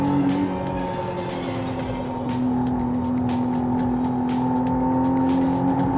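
A McLaren Artura hybrid supercar accelerates with a smooth, sustained engine drone and a whirring tone, heard from inside the car at a steady, moderate level.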